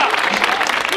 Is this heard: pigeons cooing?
no